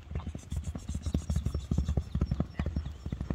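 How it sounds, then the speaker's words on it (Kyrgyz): A fast horse running on a road, its hooves beating out a quick, even clip-clop rhythm at close range, with no talk over it. "Анда эмесе аттын чуркаганын көрүп коелу."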